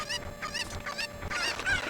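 Cucco chickens clucking and squawking in Ocarina of Time, a dense run of overlapping bird calls at steady volume for about two seconds.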